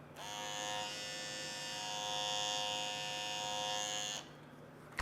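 An Andis Slimline Pro hair trimmer switched on and running for about four seconds, a close, steady high-pitched electric buzz that cuts off abruptly.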